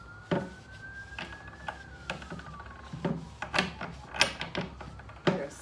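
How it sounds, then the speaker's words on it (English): A distant emergency vehicle siren on a highway down the street from a quiet country property: a faint, slowly rising and falling wail heard under close wooden knocks, clunks and rustling. "There's a siren, you never hear that out here in the country"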